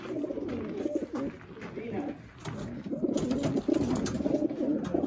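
Racing pigeons coo in a steady, overlapping murmur of low throaty calls, close and continuous, with faint voices now and then.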